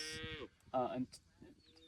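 South Poll cattle moo on a pasture, two close, drawn-out lowing calls with a quieter murmur of herd sounds after, no talking.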